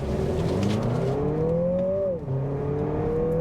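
A 2024 Lexus NX350 F Sport compact SUV pulls away from a standstill, its engine note climbing steadily in pitch through the gears with a brief dip at a shift, loud and close throughout with no talk.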